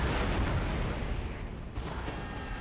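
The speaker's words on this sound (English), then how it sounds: "Come on, get those cannons roaring." Cannons fire canister shot during a video game battle of Italian unification, a dense, continuous roar of booming volleys and gunfire that blends into one sustained barrage, loud and without a break.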